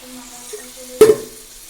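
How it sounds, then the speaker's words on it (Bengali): Water poured into a hot pan of fried mung dal, a quiet hum suddenly broken by a loud hissing burst of steam and sizzle that fades over a fraction of a second. "এবার আমি জল ঢেলে দিলাম"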